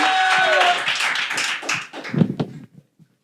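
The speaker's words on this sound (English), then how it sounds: "Y'all are already clapping." An audience claps for the poet Chavo Flaco at an Approach The Mic poetry event. The applause is a dense, close patter that thins and stops after about two and a half seconds, with a faint tone early on.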